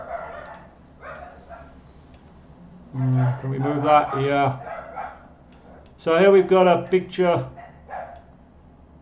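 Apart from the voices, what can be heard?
dogs barking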